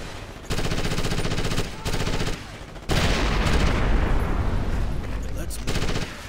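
Gunfire in the Xbox game Ghost Recon Advanced Warfighter: dense bursts of rapid automatic shots in several long volleys with short gaps, loud and close, the heaviest barrage in the middle.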